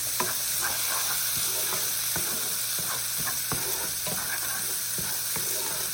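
Vegetables and cooked lentils for vegan pancit frying in a pan, a dense, continuous sizzle that holds level throughout, with small irregular stirring clicks heard close up.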